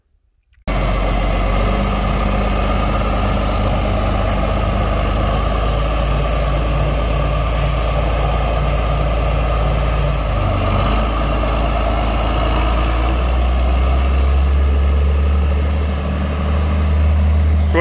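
A restored 4440 tractor's heavy diesel engine runs steadily and loud for the whole stretch, idling and pulling away close by, with a low rumble that dips briefly partway through before rising again as it drives off.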